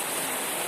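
Heavy rain pouring steadily in a rural countryside setting, a dense continuous hiss filling the space, loud and close with no voices over it.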